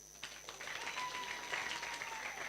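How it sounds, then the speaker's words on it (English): Applause from a seated audience at a manifesto launch event, a dense, sustained patter of clapping building quickly and holding steady, recorded at a low level with a faint hum beneath. "Clap for him."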